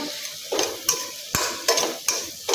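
Turmeric roasting in a pan with green chillies and salt for a paneer dish, heard as a steady close sizzle broken by several sharp scraping stir strokes of a spoon against the pan, with no talking.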